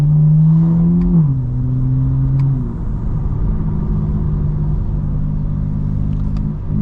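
A 2025 BMW M4 CS with a resonated mid pipe, catless downpipes, a valve controller and intakes, its exhaust droning loud and close as the engine pitch rises and then settles into a steady cruise, with no talking.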